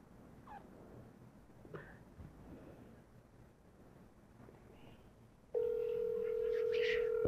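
A phone call's ringing tone sets in abruptly after a quiet stretch of faint background noise, continuing as a steady, fairly loud electronic tone until the end.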